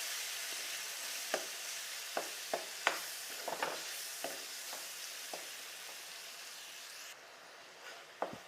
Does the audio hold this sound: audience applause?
no